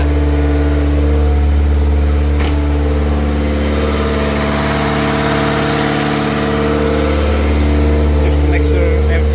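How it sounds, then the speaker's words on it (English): A Mitsubishi Eclipse 2G GSX engine idles loudly close by, then revs up, dips, and climbs again in a steady, humming drone over about nine seconds. "I step on the gas."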